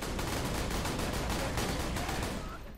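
Rapid gunfire from a Trick Watcher weapon in the Borderlands 2 video game, a dense continuous burst of shots lasting a few seconds at steady loudness, with no talk over it.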